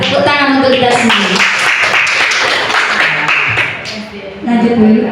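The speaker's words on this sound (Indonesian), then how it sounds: "Tepuk tangan untuk kita semua" Audience clapping at a teacher training session, a burst of applause over talk and cheering that fades near the end as a voice resumes.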